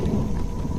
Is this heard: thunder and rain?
yes